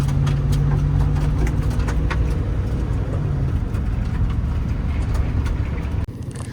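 A moving truck drives along steadily, its engine a low continuous rumble with road noise, no talking, ending in a brief drop near the end.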